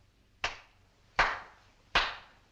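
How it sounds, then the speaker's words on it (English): Three sharp, evenly spaced hand claps ring out alone, each loud and close with a short decaying tail, in a theatrical scene from Cyrano de Bergerac. "I clap my hands 3 times,"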